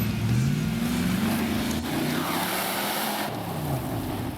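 A Rover V8 in a big Range Rover revving hard on a riverside off-road track, loud, close and continuous, the engine note rising and falling as it strains.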